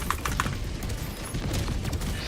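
Gunfire in a combat video game comes as rapid, sharp bursts of shots and muffled booms, a dense, steady volley that stays at one level throughout.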